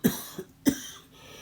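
A man coughs twice in quick succession, short close bursts separated by a brief pause, with a softer catch between them in an otherwise quiet room.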